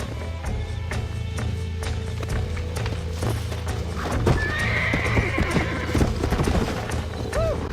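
Hooves clip-clop at a steady run while a horse gives a high neigh midway through, with music and ambient game sounds underneath, in Red Dead Redemption.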